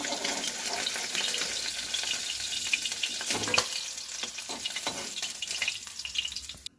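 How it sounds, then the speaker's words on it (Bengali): Tangra fish fry in hot oil in a wok, a dense continuous sizzle and crackle up close with occasional spatula knocks and splutters, no talking. "এবার মাছগুলো আমি ভেজে নেব"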